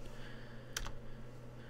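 Keys tapped on a computer keyboard while entering a command in Minecraft 1.2.5: a quick pair of close, crisp clicks in the middle of a quiet room hum.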